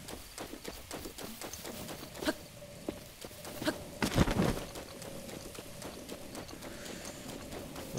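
Video game horse hooves clop in a quick, steady rhythm, close and clear, with a brief louder burst of impacts partway through.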